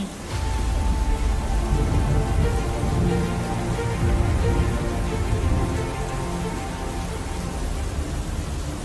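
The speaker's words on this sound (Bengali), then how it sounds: "অনেক দিন পর আমরা সবাই একটু বৃষ্টি পেয়েছি" Rain falling in a cartoon: a dense, even hiss of downpour that stays loud and steady throughout, with a faint low rumble beneath and no talking.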